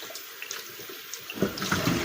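Water running and splashing in a pot as food is rinsed in a kitchen, a steady soft wash that grows louder and busier toward the end.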